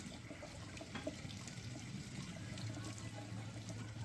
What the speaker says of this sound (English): Rinse out the inside, get the guts out.